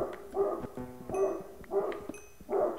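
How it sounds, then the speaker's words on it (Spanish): Dog barks in the video game Minecraft: about four sharp, yelping barks at a steady rhythm, close and fairly loud, with nothing else alongside. "Ah, pinche perro, cállate."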